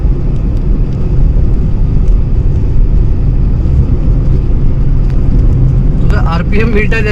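A 2020 Maruti Swift VXI engine running while driving, a loud, steady low rumble of road and engine noise from inside the car, with a voice coming in briefly near the end.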